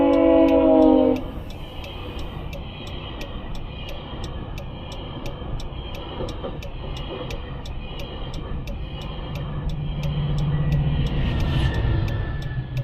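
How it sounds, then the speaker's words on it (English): A GO commuter train rumbles past nearby with a steady rhythmic clicking of wheels over track joints, growing louder toward the end; a horn sounds briefly at the start. "There's a train coming."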